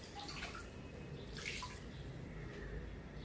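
A pug's favourite toy is dunked and swished in a tub of clean water, giving steady splashing and trickling with a brief louder slosh midway, close by and without talk.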